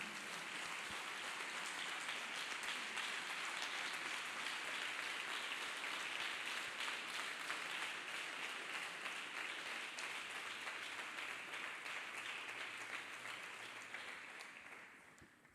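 A church congregation claps for Jesus Christ in a dense, sustained round of applause that holds steady for several seconds before tapering off at the end.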